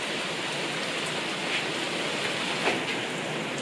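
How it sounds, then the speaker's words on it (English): Torrential rain pours outside an open patio door during a home renovation, making a steady, even hiss of dense drops with no voices over it. "It is torrential rain right now."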